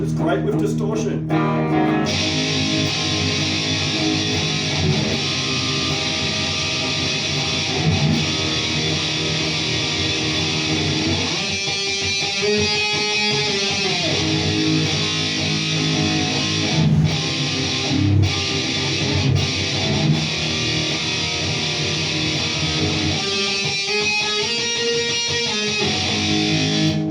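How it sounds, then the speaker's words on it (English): Electric guitar on a PRS with a Gibson TUSQ nut, played through heavy distortion: thick sustained chords and ringing notes fill the whole clip at steady loudness, with a few strummed bursts, loud and close. "it's great with distortion"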